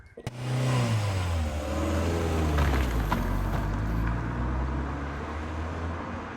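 A Mazda MX-5 NC roadster pulls away and drives on, its engine a steady low hum with a rising, revving pitch and broadband road and wind noise throughout, close and fairly loud with no talk.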